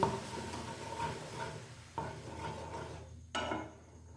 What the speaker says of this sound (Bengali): দুধ ফুটে উঠেছে, এটা বারে বারে নাড়তে হবে কিন্তু।